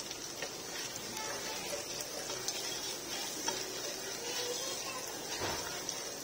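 Spices with ghee, coriander powder and garam masala sauté in a pan for palak paneer, a soft continuous sizzle with light scraping ticks of stirring.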